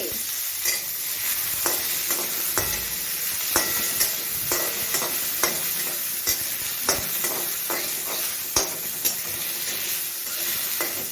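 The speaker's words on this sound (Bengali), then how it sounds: "পেঁয়াজ দিয়ে দেবো আর দিয়ে দেবো টমেটো এবারে এগুলোকে সব একসঙ্গে ভাজতে হবে" Onion and tomato frying together in a pan, a steady sizzle broken by regular spatula scrapes and taps as the mixture is stirred, close and alone without speech.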